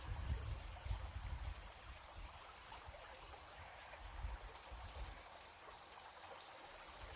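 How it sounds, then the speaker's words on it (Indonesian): A river murmurs through the Korean countryside beside rice paddies, a faint, steady trickling flow that carries on unbroken, with soft insect chirps in the background. "Ini suasananya sungai, suaranya air gemericik seperti di tempat kita ya"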